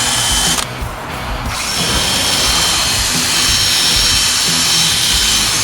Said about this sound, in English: And I like these drills because they're not as fast.